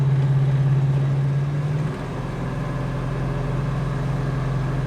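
A 1971 Chevrolet Chevelle SS engine drones steadily from inside the car as it accelerates, a low sustained hum with a pitch dip partway through, moderate in level and without talk.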